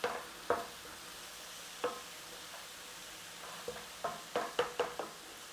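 Mushroom duxelles cooking down in a pan until dry, soft sizzling under a series of light spoon taps and stirring knocks, sparse at first and then clustering quickly toward the end.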